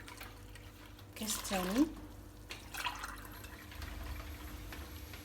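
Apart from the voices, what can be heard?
warm water poured from a glass into batter mixture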